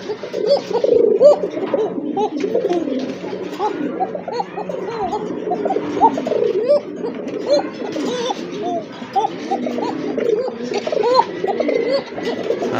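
A pair of pigeons coo close by, their soft throaty calls repeating and overlapping steadily without pause.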